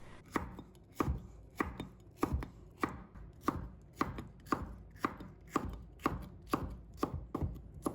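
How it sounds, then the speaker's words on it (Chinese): A knife chops chili peppers into small pieces on a cutting board, about sixteen crisp, evenly spaced thuds in a steady rhythm, close and clear with nothing else heard. "再改刀切成小块"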